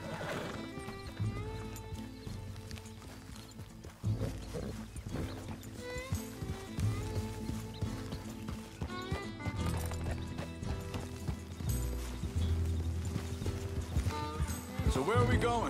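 A horse in the Red Dead Redemption 2 video game gallops with rhythmic clip-clop hoofbeats and lets out whinnies. Game music and voices talking run underneath.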